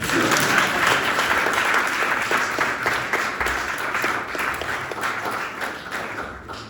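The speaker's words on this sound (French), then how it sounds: "Vous pouvez l'applaudir" Sustained audience applause at a French public lecture on exoplanets and human missions to Mars, a dense, steady wash of many hands clapping throughout, loud and continuous with no talk over it.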